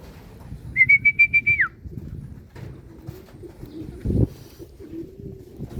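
A racing pigeon gives a short run of rhythmic whistling coos as birds return to the loft, followed by faint outdoor background noise with a brief dull thump.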